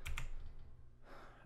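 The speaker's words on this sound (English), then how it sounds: "basically click on M key on your keyboard" Keys clatter on a computer keyboard, a quick pair of taps near the start followed by faint, fading clicks.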